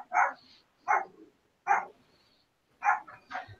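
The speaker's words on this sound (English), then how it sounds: "I've got a dog barking in the background as per usual" A dog barks in the background, five sharp barks spaced roughly a second apart with quiet gaps between them, fairly faint, and no one speaks.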